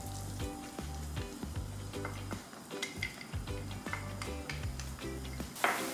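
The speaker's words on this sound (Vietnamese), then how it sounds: "Bây giờ chờ dầu sôi, dầu nóng lên thì mình sẽ chiên tỏi trước." Chopped garlic fries in hot oil over medium heat, a steady crackling sizzle with occasional utensil clinks as it is stirred gently, running beneath a rhythmic musical backing.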